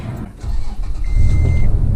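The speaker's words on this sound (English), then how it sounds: "that's why you can hear a little bit of the engine noise" A 2007 Toyota FJ Cruiser engine starts up after a Stage 2 clutch and throw-out bearing replacement, a brief crank catching into a loud, low rumble with a thin whine, heard close with part of the interior removed.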